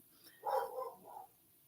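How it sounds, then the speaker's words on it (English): A single short bark, muffled and somewhat distant, followed by a softer trailing yip, then quiet. "What are you barking at, Loki?"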